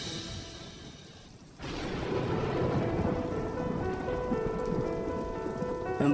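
Heavy rain pours on surfaces in a thunderstorm, starting quieter and then jumping to a loud, dense, continuous roar of drops, with a low rumble of thunder underneath and no voices.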